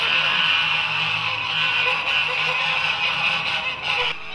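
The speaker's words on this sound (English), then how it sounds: "there's a really interesting cloister that's home to a flock of noisy geese with an attitude" A flock of noisy geese honks in a church cloister in Barcelona, a loud, continuous chorus of overlapping calls with a hollow, echoing background.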